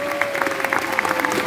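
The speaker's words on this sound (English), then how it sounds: "a massive round of applause for fantastic Ainsley Harriet" Live studio audience clapping for chef Ainsley Harriott at a cooking show, a dense, steady burst of applause close by, with a faint tone running beneath it.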